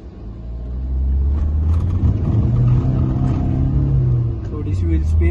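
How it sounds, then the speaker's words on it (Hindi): Hyundai Verna 1.6 diesel manual pulls away hard in first gear with a little wheel spin, its deep engine rumble rising and holding steady, heard from close by. "थोड़ी सी व्हील स्पिन।"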